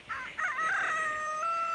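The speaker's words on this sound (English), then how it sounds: "This is White Rooster" A white rooster on a farm in rural South Dakota crows once, a clear, drawn-out call close by, with no talking.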